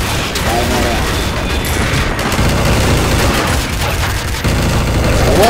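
Rapid bursts of gunfire in the Garry's Mod Zombie Survival game, steady and dense throughout with booming shots, heard under excited player voices.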